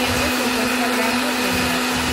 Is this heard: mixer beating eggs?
yes